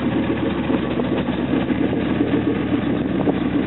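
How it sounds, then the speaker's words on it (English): A 2000 Ford F250 XLT four-wheel-drive pickup's engine, with an exhaust leak, idles with a rough, uneven low rumble and faint ticking puffs, steady and close throughout. "Truck sounds like it's got a little bit of an exhaust leak."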